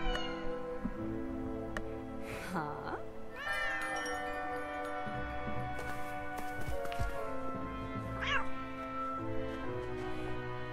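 A cat meows several times in the Lego Batman video game, drawn-out rising calls heard over game music and effects.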